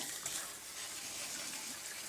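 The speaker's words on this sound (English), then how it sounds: "Just turn on your sink." Steady broadband rush of water pouring from a sink tap, continuous and fairly close, with no voices.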